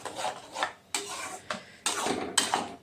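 A spoon scrapes and rubs through homemade tomato sauce in a pan, several close, rasping strokes with short pauses between them.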